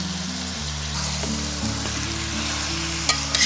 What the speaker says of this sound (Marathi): चिकन या फोडणीमध्ये एकदम व्यवस्थित शिजून घ्यायचं